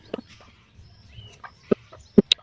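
A naked-neck deshi hen and her chicks cluck in a few short, scattered calls with high chick peeps, close and fairly quiet against a soft background.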